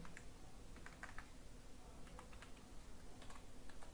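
Code for an HTML web page is typed on a computer keyboard as quiet, irregular clusters of close key clicks over a low hum, with no talk.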